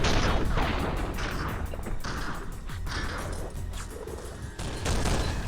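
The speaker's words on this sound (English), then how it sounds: "They're still shooting at something." Gunfire rattles steadily in The Matrix video game, dense overlapping shots and impacts filling the whole stretch at a loud, continuous level.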